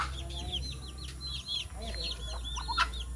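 Chickens cluck in a busy flock over a low steady hum, with short repeated calls and a brief bird chirp near the end.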